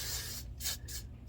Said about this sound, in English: I just kind of spray it with this Got to Be Glued.